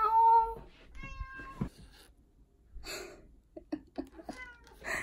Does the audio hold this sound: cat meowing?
yes